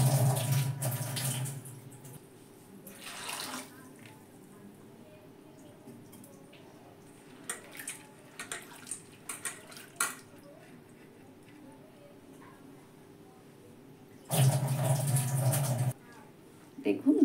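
Sago pearls being washed in water in a kitchen, with brief splashing and sloshing bursts at the start and near the end, quieter drips and small clinks in between, alone without talk.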